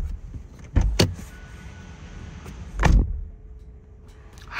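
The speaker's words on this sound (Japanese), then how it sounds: "ドア閉めた音はこんな感じ。" Two solid thuds as the door of a 2022 Toyota Crown RS Advanced shuts, heard close from inside the car, followed by a quiet cabin.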